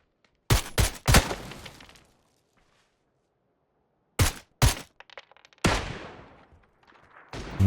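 Gunfire in the shooter game PUBG: loud, sharp shots at close range fired in short clusters, with pauses of near silence between the bursts.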